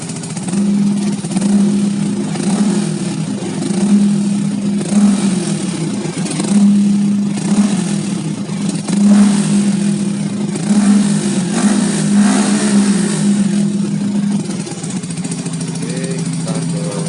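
A Yamaha R15 VVA motorcycle fitted with a Tridente exhaust in silent mode rumbles nearby, idling with repeated short throttle blips and revs in a steady, muffled pattern.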